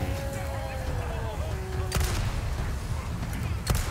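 Shotgun fire in the survival horror game Resident Evil 4 Remake: two sharp, loud blasts about two seconds apart over a rumbling game background, with a voice and tonal sounds earlier on.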